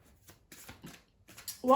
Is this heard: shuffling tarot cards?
yes